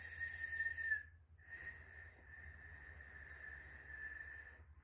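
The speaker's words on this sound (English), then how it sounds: "We're going to whistle as much as we can at the highest pitch as possible" High-pitched human whistling held as a breathwork exercise: one long sustained tone, a brief breath gap, then a second long steady tone, close and fairly quiet over a low background hum.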